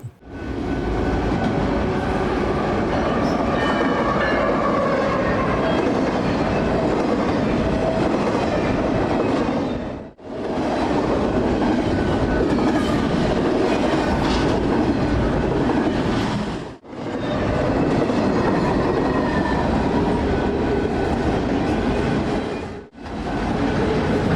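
A BNSF freight train led by locomotives, including a rebuilt former Santa Fe unit, rolls past near Kansas City in a continuous loud roar of wheels and rail clatter, broken by a few brief dips.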